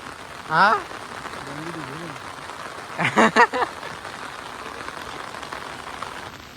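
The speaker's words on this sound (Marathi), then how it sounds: "पाऊस काय थांबाचा नावच घेत नाही इकडे" Steady monsoon rain patters continuously on a surface, with a few brief voices and bird-like calls breaking through the even hiss.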